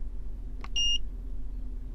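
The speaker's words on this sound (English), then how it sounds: "stop beeping" A Foxwell NT301 OBD2 code reader sounds a short pair of high electronic beeps once, clear against a low steady hum, then quiet.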